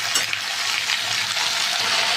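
Okra, potato, onion, tomato and green chili frying in oil in a pan, a close, steady hissing sizzle with no pauses.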